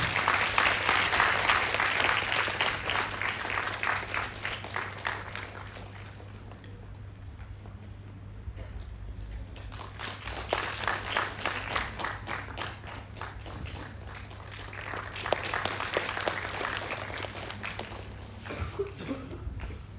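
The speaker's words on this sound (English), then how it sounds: "A big round of applause." Steady applause from an audience at an Ayurveda inauguration fills the whole stretch, dipping briefly in the middle before swelling again, with a constant low hum underneath.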